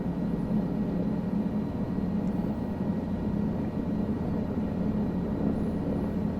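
A Guimbal Cabri G2 helicopter flies in Microsoft Flight Simulator 2020 with a steady, unbroken cockpit drone of engine and rotor noise, loud and constant throughout.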